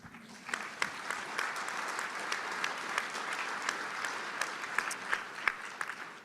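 Audience applause and cheering at a First Nations Major Projects Coalition conference, a steady wash of clapping with scattered sharper claps, sustained for several seconds at moderate level.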